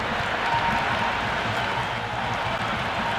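Crowd applause and cheering from a stadium audience in the cricket video game Cricket 26, a steady, dense roar of clapping that fills the whole moment at even loudness.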